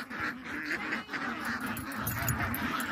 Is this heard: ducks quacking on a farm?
yes